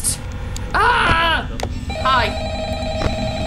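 A phone rings twice in the Five Nights at Freddy's 3 video game, each ring a short trilling bell, while a person talks over it.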